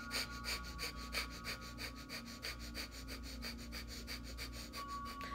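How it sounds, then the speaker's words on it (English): Rapid forceful pranayama exhalations through the nose repeat in a steady quick rhythm, close and alone, each breath a short sharp puff. "then quick breaths engaging the core"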